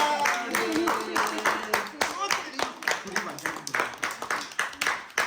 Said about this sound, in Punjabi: ਚਲੋ ਜੀ ਤਾੜੀ ਮਾਰ।